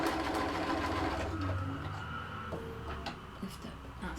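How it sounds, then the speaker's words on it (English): Sewing machine stitching pleats on a Japanese omiyage bag, a quiet, rapid mechanical rattle running steadily, close by, with faint talk in the background. "So I'm going to just sew"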